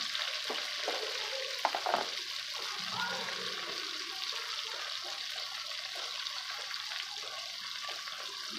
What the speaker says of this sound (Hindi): अब हल्का सा इसको हम बस फ्राई करेंगे